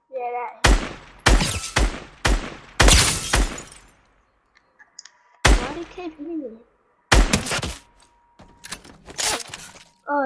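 Gunfire in Fortnite comes as loud, close bursts of shots separated by silent gaps, with voices talking faintly in between.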